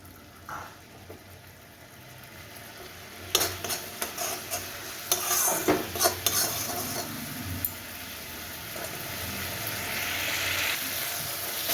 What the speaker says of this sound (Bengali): এবার দুধটা দিয়ে ভালো করে কষিয়ে তারপরে আমি এর মধ্যে পরিমাণ মতো জল দিয়ে দেবো